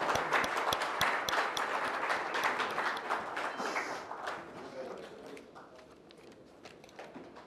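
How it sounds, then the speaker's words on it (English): Audience applause at a hospitality conference gathering, a dense wash of many hands clapping that starts strong and gradually thins and fades toward the end. "One more round of applause for them,"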